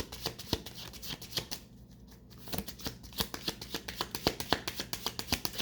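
Tarot cards being shuffled and drawn by hand, a dense run of crisp riffling flicks and soft taps with a brief lull before the snapping resumes steadily, close and moderately quiet.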